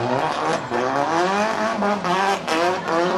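A high-powered JR Performance 180SX drift car runs at a pro drift event. The engine screams loud and close, its pitch sweeping up and down as the driver works the throttle, with tyre noise underneath and no voices.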